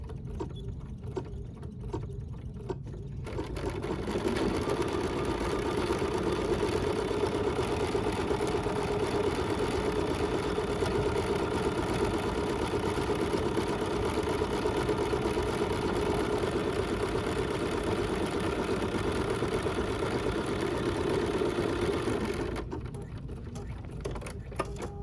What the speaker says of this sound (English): And now I'm going to get started with my stitching.